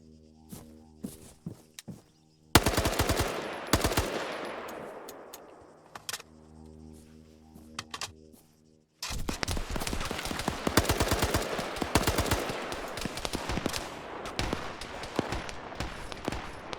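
Rapid video-game gunfire crackles in dense automatic bursts, with a few scattered shots first, then a long sustained barrage through most of the stretch, loud and close with no talk over it.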